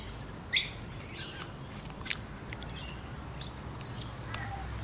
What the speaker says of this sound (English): These are peewees, magpie larks. They like the water. They're wading birds.